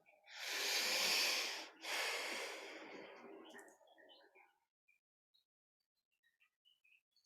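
Deep, slow breaths during a seated yoga practice, two long breathy inhale-exhale sounds close to the ear that fade into near silence.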